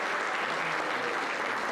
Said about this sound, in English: Please give a round of applause for Mrs.